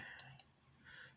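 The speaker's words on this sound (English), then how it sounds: "I'm going to click on n here." Two sharp, close computer mouse clicks in quick succession in a quiet room, followed by a faint soft rustle.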